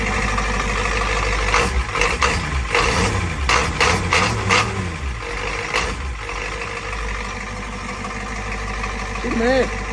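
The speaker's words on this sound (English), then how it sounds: "We'll give her a little rev up." Engine of a project vehicle on a cold start, idling loudly with a few short rises in revs in the first half, people talking nearby throughout.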